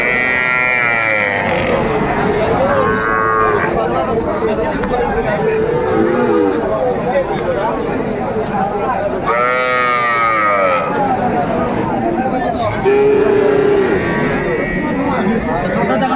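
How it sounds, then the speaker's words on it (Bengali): Young bull calves moo repeatedly at a busy livestock market in Ranigonj, Dinajpur, loud nearby calls rising and falling amid a crowd of people talking and bargaining. "সবগুলা ষাঁড় বাচ্চা"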